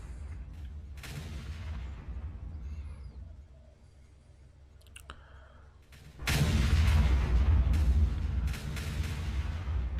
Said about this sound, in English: Here's another wave of artillery shells coming down to make sure that this spawner base is dead